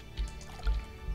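Watering crops in the Stardew Valley video game: three soft low splashy sprinkles spaced about half a second apart, faint and alone.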